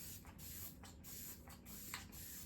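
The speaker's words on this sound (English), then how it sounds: "I might go in with a little more setting spray" Makeup setting spray is sprayed from a pump bottle in several short, close, hissing bursts, one after another.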